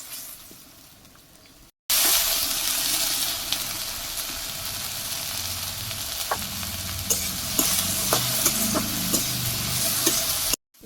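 Fish fries with garlic in a pan in a Bangladeshi village kitchen, a loud continuous sizzle that starts abruptly, with spoon scrapes and clinks as the pieces are stirred, then cuts off at the end.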